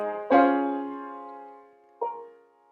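A piano plays a short excerpt from Schubert's Moment Musical: one loud sustained chord rings and slowly decays, then a second, softer chord sounds and fades, alone and close.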